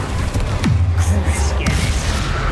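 Bombarda spell explosion in the Hogwarts Legacy video game during a troll fight: a loud, deep booming blast with a falling low rumble, then a second thud, over dense continuous game noise.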